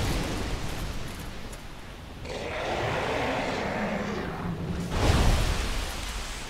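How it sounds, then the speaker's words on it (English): A magic spell cast in Dark Souls Remastered gives a rushing, noisy whoosh that swells midway, then a heavier burst near the end, fairly loud and close. "I shoot magic."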